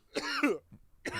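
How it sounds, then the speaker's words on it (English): Dry coughs into a close microphone, a two-part hacking burst followed after a short pause by another, loud and alone with no talk. "Give me one more big, dry cough right into the mic"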